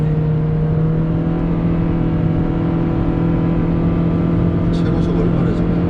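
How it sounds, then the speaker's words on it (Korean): Toyota Prius V hybrid accelerating on a cold road, a steady drivetrain hum and tonal whine rising slightly, heard close from inside the cabin. "가속 한 번만 더 하는 걸로."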